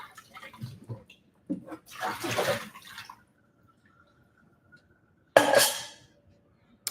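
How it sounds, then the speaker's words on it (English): Eggs are washed under running water in splashing bursts, with a brief trickle, a pause and then a sharp final gush, close and fairly loud with no talking. "So when I wash these, looks like I have 4 dozen so far."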